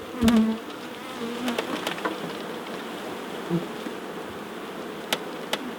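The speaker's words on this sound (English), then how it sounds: "there's a lot of bees here" Bees buzz faintly around a garden full of them, with a few brief louder passes of wings close by against a soft outdoor background.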